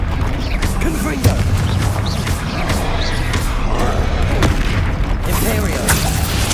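Fire spell explosions and combat effects from Hogwarts Legacy gameplay on PS5 rumble loudly and continuously, with booming bursts and mechanical clatter, while character voices shout over the action.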